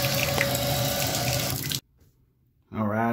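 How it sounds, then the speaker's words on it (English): Water runs steadily from a shower valve under repair, with the cartridge and pressure balance unit pulled, loud and close for nearly two seconds, then cuts to near silence before resuming briefly. "the water did not turn off when I turned it off here"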